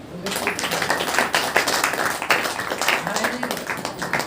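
A congregation at a Saturday church power meeting claps their hands in a quick, steady rhythm that continues throughout, with voices and speech mixed into the clapping.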